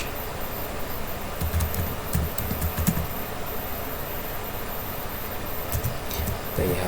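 Computer keyboard typing as a web address is entered, with a few scattered key clicks over a steady room hum and fan noise, fairly faint and close.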